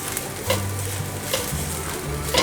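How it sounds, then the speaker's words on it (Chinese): Soy protein mince being stir-fried in a wok, a steady close sizzle with scraping stirs and a few louder tosses, no talking. "现在放入锅内，把大豆酥肉末炒香。"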